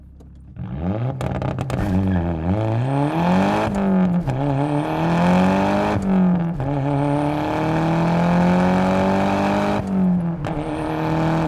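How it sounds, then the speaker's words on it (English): A Nissan Pulsar GTI-R small car launching hard and accelerating through several gears, its engine note climbing and dropping with each quick shift, loud and close from inside, with no talk over it. "just getting up and rowing through the gears in a small car and launching like that is so much more of an adrenaline rush"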